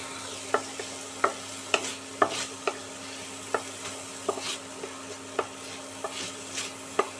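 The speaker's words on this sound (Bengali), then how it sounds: "আমি জল ঝরানো মুগের ডালটা দিয়ে দিলাম, দিয়ে ভালো করে মিনিট 2 সময় ধরে ভেজে নেব" Drained mung dal fries in hot mustard oil, a low steady sizzle punctuated by regular sharp spatula taps and scrapes every half second or so, close and alone without speech.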